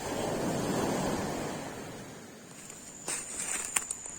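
Wind blows across the shore of Mogo Mogo island, a broad rushing roar mixed with surf that swells then eases, followed by faint footsteps and light crackling near the microphone.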